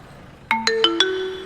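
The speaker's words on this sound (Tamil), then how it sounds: "மதி, உங்க போன் அடிக்குதுன்னு நினைக்கிறேன்." A mobile phone ringtone plays in a Tamil TV serial scene: four bright chime notes in quick succession, then a sustained ringing tone. It is loud and close, with no talk over it.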